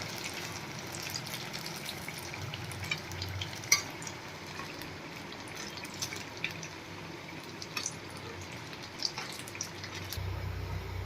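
Eggplant pieces fry in oil in a pan after several minutes of cooking. They give a faint, continuous sizzle with scattered small pops and light clinks, close by, with no talking.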